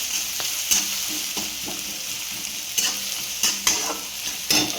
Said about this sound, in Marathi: आपण असं चमच्याने ते हलवून चांगलं परतवून घेऊया